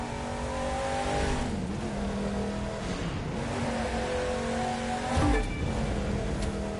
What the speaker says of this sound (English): Much more roar like an engine